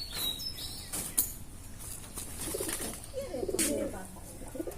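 Pigeons cooing in a domestic collection, with soft, low, throaty coos recurring under scattered sharp clicks and knocks nearby.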